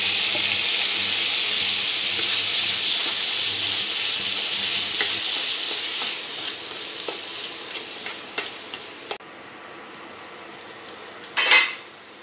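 Chopped tomatoes frying in a pan for tomato rice, a loud steady hiss that fades over time, with scattered clinks of a utensil against the pan and a brief clatter near the end.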